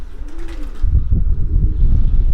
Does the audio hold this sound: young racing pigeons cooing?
yes